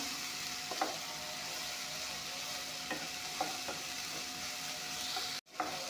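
Ingredients for a jackfruit and fish curry fry in a pan with a soft, even sizzle, while a spoon scrapes and stirs them at intervals. The sound is quiet and close, with no speech.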